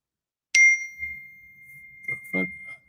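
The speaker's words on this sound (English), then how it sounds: "Looks like a rando text message popping up." A single bright notification ding from a phone receiving a text message rings out during a live whisky-tasting stream, a clear chime that lingers and fades, followed by a brief faint voice.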